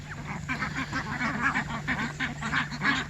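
Several full-grown ducks in a backyard flock quack repeatedly in a lively, overlapping rhythm, close and clear over a steady low hum.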